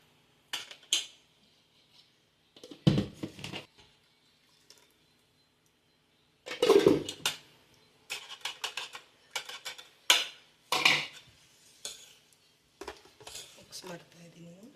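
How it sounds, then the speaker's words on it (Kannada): Homemade instant ice cream mixture being mixed with milk, heard as scattered close clinks and scrapes of a spoon against a bowl in short bursts separated by quiet gaps. "ಮಿಕ್ಸ್ ಮಾಡ್ತಾ ಇದ್ದೀನಿ"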